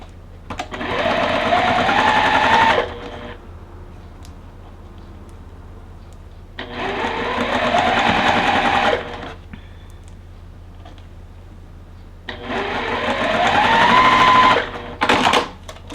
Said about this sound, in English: let's go ahead and start sewing these together